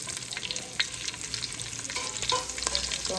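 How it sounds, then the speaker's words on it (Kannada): Slit green chillies frying in hot oil make a steady, close hiss and crackle with scattered small pops and faint stirring, with no one talking. "ಸೊ ಅದು ಚಲೋ ಫ್ರೈ ಆಗಲಿ."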